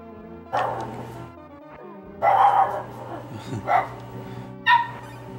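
A small, 7-pound dog barks loudly in short yapping bursts, four sharp barks spaced across a few seconds, close to the listener with no talk over them.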